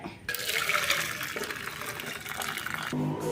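Hot rasam poured out in one continuous splashing, gurgling stream, close and fairly soft, with a brief clatter at the start and finish.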